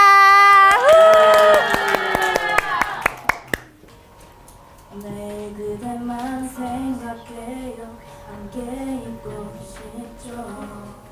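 A class claps for a student group after their presentation in a classroom drama-making activity; a dense burst of clapping fills the first few seconds, then fades, and the room continues with voices and other sounds.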